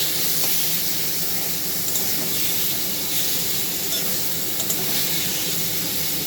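Sojne data stems frying in a pan as mustard, poppy seed and green chili paste is stirred in, giving a steady, loud broadband sizzle and hiss that runs unbroken throughout with no voices.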